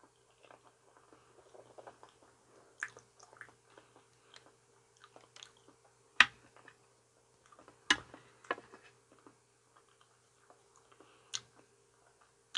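Soft, wet chewing of cut banana pieces, close and quiet, with sparse small clicks and a few sharper bites scattered through a near-silent background.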